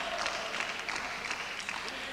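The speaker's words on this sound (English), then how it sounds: "Warm applause" Warm applause from a crowd at a 1986 basketball semi-final, a soft, steady patter of clapping that is fairly distant and faint, with a commentator's voice over it.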